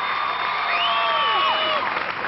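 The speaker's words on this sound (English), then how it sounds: "Applauding" An audience applauds and cheers a 1998 Hershey's Kisses Challenge figure skating performance, a steady wash of clapping and whoops from the arena with bright synthetic tones sliding across it.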